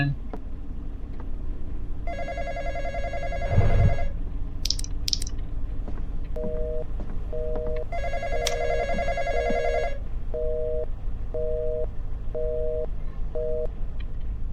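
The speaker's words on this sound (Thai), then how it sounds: "โทรศัพท์" A telephone rings in the Roblox game The Intruder: a long electronic ringing tone, then short repeated beeping bursts at steady intervals. Low game ambience runs underneath, with a brief thump and squeak partway through.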